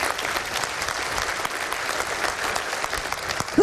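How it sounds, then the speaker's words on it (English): An audience at a seminar claps continuously, producing dense, fairly loud applause that stays even from start to finish with no clear speech over it. "it does deserve a clap, Wendy."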